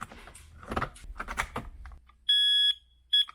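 A household smoke alarm with a freshly inserted battery gives a loud, piercing electronic beep, then a short second beep after a pause, following a couple of seconds of handling and rustling.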